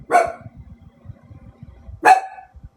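A dog gives two sharp, loud barks about two seconds apart, close by, with soft shuffling and low thumps in between.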